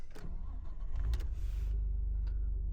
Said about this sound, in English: Car rumbles to life.